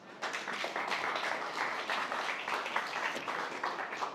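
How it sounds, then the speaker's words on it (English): Crowd applause at a startup pitch competition greeting a presenting team onstage, dense and even throughout with individual claps audible in the mix. "A round of applause for FairFix."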